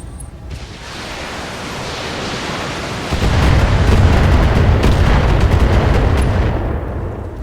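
A UAC-20 autocannon striking a target in the BattleTech video game, a loud dense roar of rapid impacts that swells after a few seconds and holds steady before easing off, no talking.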